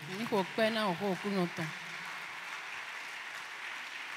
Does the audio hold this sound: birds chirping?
no